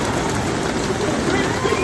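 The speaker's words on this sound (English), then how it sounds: "And it's hailing now." A dense, constant patter of hail and rain hitting surfaces nearby at Six Flags New England amusement park, loud and unbroken, with a voice faintly mixed into the din.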